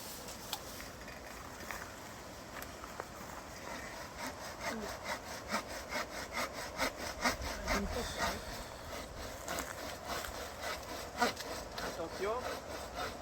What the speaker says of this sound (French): Je vais scier la branche.